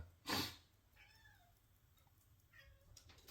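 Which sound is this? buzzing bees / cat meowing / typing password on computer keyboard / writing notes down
cat meowing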